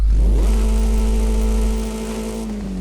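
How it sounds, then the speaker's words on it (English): A car engine in Forza Horizon 5 revs hard and climbs to a high, steady in-game roar, then drops away at the end, loud and close with no talk. "make sure you then rev the engine because it sounds cool"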